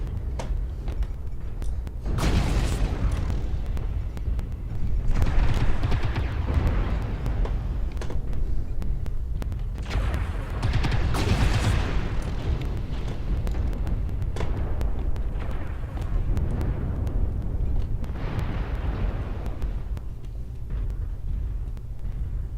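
Artillery strike explosions in the mech combat game MechWarrior Online, a run of heavy booms and rumbling blasts that roll and overlap over a sustained low roar, with no voices.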